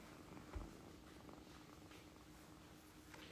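A cat purrs softly and steadily, close by, in a low continuous rumble with no other sounds.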